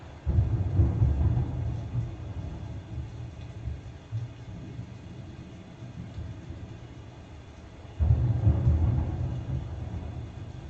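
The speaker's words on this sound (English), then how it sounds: "Did we just stumble into royalty-free thunderstorm track? 10 hours of thunderstorm." A thunderstorm track plays in the background, a steady low rolling rumble that swells at the start and again near the end, with no voices heard.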